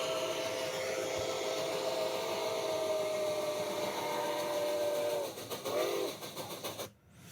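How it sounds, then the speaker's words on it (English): The steam whistle of Nickel Plate Road 765 sounds as the locomotive approaches and passes, a long, sustained, loud tone that wavers and drops in pitch near the end before a burst of rushing noise. "you can hear the Doppler principle in practice as the train whistle is going, as the train is coming up to us, approaching us, and then going past us"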